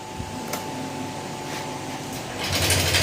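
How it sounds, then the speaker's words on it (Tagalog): A noisy Honda Click version 3 motorcycle engine idles close by, with 81 km on the odometer, giving a steady mechanical hum with faint ticking and a slight rise in noise near the end. "troubleshoot na version 3 na click dahil uh, maingay yung makina nito"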